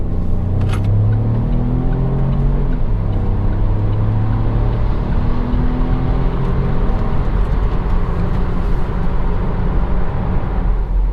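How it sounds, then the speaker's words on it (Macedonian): Opel Frontera Hybrid accelerating steadily onto a motorway, a continuous loud engine drone with rising tonal hum and heavy road and wind roar throughout, no voices. "Тука се приклучувам на автопатот и следи едно забрзување."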